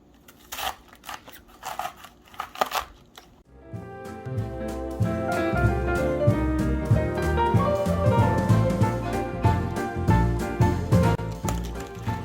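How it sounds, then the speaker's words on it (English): A knife chops cored cabbage into thin strips, a quick run of crisp, close cuts on a board before steady background music rises and largely covers the sound. "we're going to go ahead and core our cabbage, and then we're going to cut them into thin strips"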